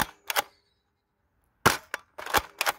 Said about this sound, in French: On va tester avec les fléchettes de base la précision du blaster.